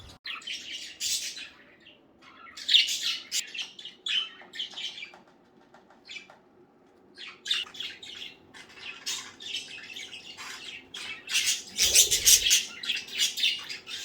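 Small pet birds chirp and squawk in bursts of high, bright calls scattered throughout, with a low steady household hum beneath and a brief rustle of flapping wings near the end.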